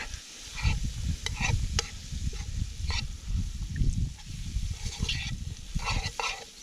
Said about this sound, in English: we're going to start building our roux with the sausage grease